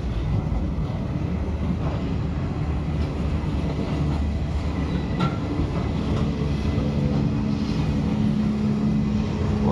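A short goods train passes on the Chennai–Tirupati railway line, a steady rumbling roll with faint clickety-clack of wagons, continuous and fairly close throughout.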